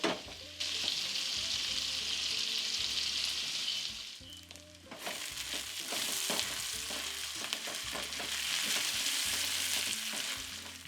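Chicken pieces browning in a hot pan for smothered chicken sizzle and crackle steadily and close up, with a brief lull partway through before the frying picks up again.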